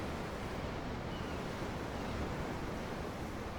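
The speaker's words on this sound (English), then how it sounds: "I'm looking at the ocean." Open-sea waves in Tales of Arise make an even, hushed rush of surf with faint wind, continuous and unbroken throughout.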